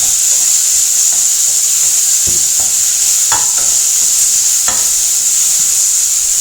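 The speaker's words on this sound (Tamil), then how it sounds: "ஒரு தக்காளி அதையும் அதில் சேர்த்து நல்லா கிளறி விட்டுடலாம்" Tomato with curry leaves, ginger and garlic fried and stirred for roasted mango rasam, a loud bright sizzle throughout, broken by several scraping strokes of a spoon across the pan.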